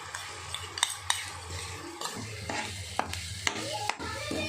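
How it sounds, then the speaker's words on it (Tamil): Yogurt cooking down in a hot pan for paneer butter masala, with a steady low bubbling and scattered sharp clinks and scrapes of a spoon stirring against the metal. "இந்த தயிர் போட்டு நல்லா வதங்கட்டும்"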